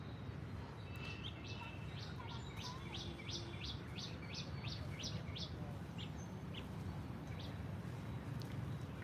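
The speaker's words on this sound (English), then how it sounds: "You can listen to the sound of the birds." Small birds chirp and tweet in a park garden at a plant resource centre, a quick run of repeated bright calls early on, then scattered single chirps over steady low background noise.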